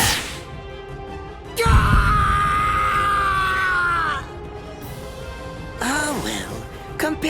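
A man in the video game Bleach Rebirth of Souls screams in pain, a long strained strained cry over a low rumble, followed by shorter groaning yells near the end.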